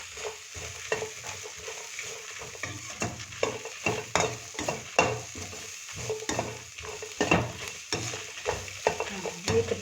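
Chicken for uruval sizzles in a pan throughout. A spoon scrapes the pan again and again in a busy, close stirring rhythm, with no talk over it.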